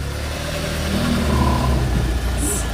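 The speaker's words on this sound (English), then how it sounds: "You could hear all the engine noise because we haven't got the engine cover on." A Smart ForTwo engine running with its engine cover removed, a loud, steady mid-pitched drone with a slight swell in the middle, close and continuous throughout.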